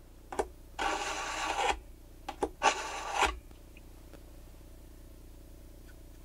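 Knife blade drawn across a sharpener in two quick swipes, each a short close rasping scrape, with a few faint clicks in between and quiet afterward.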